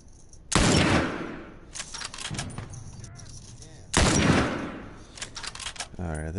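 Gunfire in The Last of Us, two loud bursts of rapid shots, each followed by scattered single shots and clatter, close and sharp with brief gaps between volleys.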